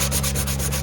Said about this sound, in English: we're not sanding it much, guys. We're just scuffing it up a little bit.